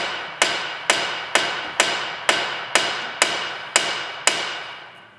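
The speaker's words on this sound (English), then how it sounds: "This is the part where we have to separate the shock from the spindle" Hammer blows knocking a shock absorber free from the spindle on a Volvo wagon during a coilover install, nine sharp metallic strikes at a steady rhythm, each ringing out briefly before the next, loud and close with no talk.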